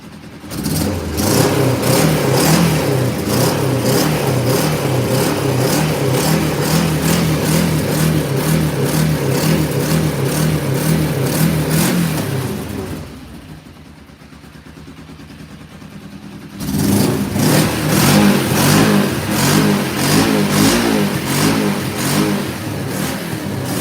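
A cheap $900 motorcycle engine runs steadily and loud up close, drops to a quieter lull partway through, then returns to its full running roar.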